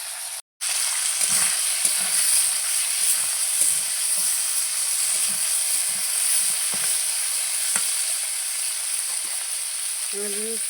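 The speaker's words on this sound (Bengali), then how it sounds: "যেহেতু মাছের মাথাটা একটু কম ভাজা হচ্ছিল তো তাই আলুর সঙ্গে একটু ভেজে নিই" Potato pieces and a rohu fish head frying in a pan make a loud, continuous sizzle after a brief silent start, with soft scraping stirs through it.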